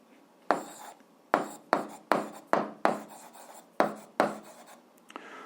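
Pen strokes on paper while working an eighth-grade algebra exercise: about nine short, crisp scratching bursts in an uneven rhythm, close and quiet with no talking.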